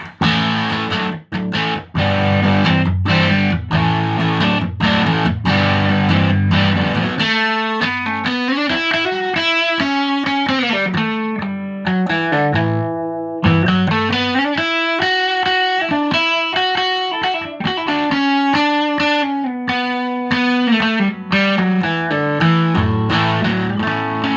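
An electric guitar through a Tomahawk distortion pedal plays chugging rhythm then sustained bending lead notes, heavily distorted, loud and saturated, with a brief pause midway.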